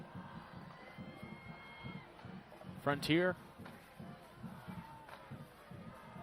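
A crowd of visiting Frontier fans cheers from packed bleachers at a Ridgeview high school football game, a distant roar under a commentator's steady talk, with one brief shrill whoop in the middle.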